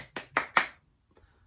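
Three sharp hand claps ring out close and quick, followed by silence with a few faint taps.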